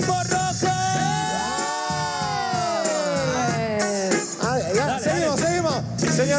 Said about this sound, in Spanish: Y arriba hay el grito del equipo rojo.